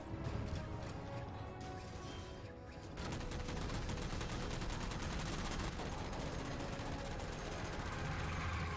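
Gunfire in Halo 4 surrounds the listener in a steady, dense stream of shots from many directions, with rapid bursts and impacts that get heavier partway through.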